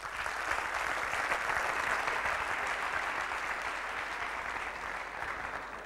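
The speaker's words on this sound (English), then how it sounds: "So I think you should clap for yourselves." Steady, dense applause from a large audience at a corporate talk, the sustained clapping holding at an even level for the whole stretch and easing slightly toward the end, with no voices heard.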